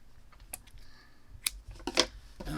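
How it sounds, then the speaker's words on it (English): Scissors snip through crochet yarn in a few quick, crisp clicks close by, with soft handling rustle between them in a quiet room. "and we're going to cut our yarn"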